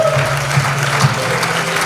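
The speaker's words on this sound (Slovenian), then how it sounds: "dajmo Jezus svoj aplavz" Steady, dense applause from a church mission crowd in Ljubljana fills the clip, loud and continuous with a low hum beneath it.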